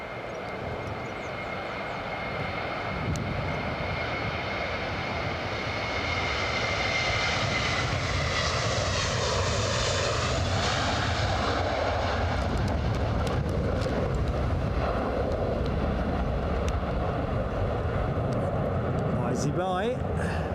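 Lufthansa airliner taking off at Edinburgh Airport on a windy day, jet engines building into a loud, sustained roar that rises and then slowly fades, with a commentator talking over it throughout.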